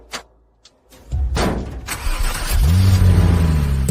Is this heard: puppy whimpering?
no